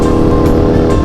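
A modified Kawasaki Ninja 250 FI motorcycle engine, built as a supermoto, revs loud and close in one dense, sustained burst with a rough, buzzing exhaust roar.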